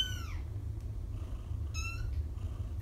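Small foster kittens give two short, high, descending meows about a second and a half apart, close by, over a steady low purring rumble.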